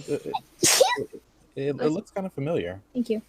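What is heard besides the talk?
sneeze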